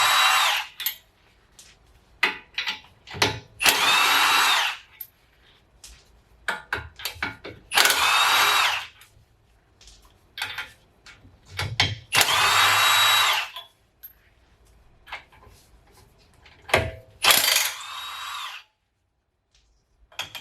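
A high-powered impact tool hammers at Loctited bolts on a Toyota FJ Cruiser's front suspension: repeated loud bursts of rattling, each a second or two long, separated by quiet pauses and short clicks, close up.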